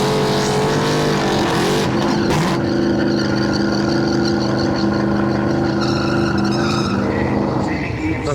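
A loud drag racing car engine roars steadily at high revs at a dragway, its pitch shifting and wavering as it accelerates, with no talking.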